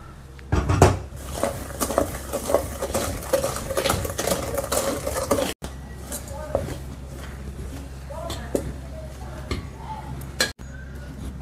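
Powdered sugar stirred into a thick rava batter for crispy rava paniyaram, a spoon scraping and clinking against the bowl in a steady rhythm beneath a voice, with a low hum running throughout.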